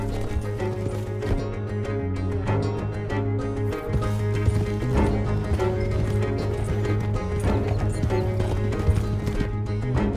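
Several horses gallop in Red Dead Redemption 2 during a robbery ride, with steady rhythmic hoofbeats and an occasional whinny blended under a loud music score, with no clear talk.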